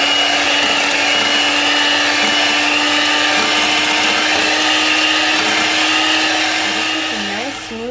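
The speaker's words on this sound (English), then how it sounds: "Then mix with your electric mixer for about 1 to 2 minutes." An electric mixer beating blueberry muffin batter in a bowl, a loud steady whirring motor hum running nonstop and close, dipping briefly at the end as it slows.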